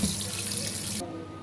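Tap water gushes into a sink as food is rubbed and washed by hand, a loud steady splash that suddenly drops to a quieter trickle.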